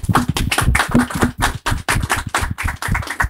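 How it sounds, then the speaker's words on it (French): An audience applauds at a football talk-show taping, dense close clapping that stays steady and loud throughout with no voices over it. "On peut l'applaudir s'il vous plaît."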